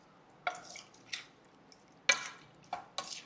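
A spoon stirs a prawn and oil mixture in a pan, giving a few soft, scattered scrapes and wet squishes at irregular intervals against a quiet background.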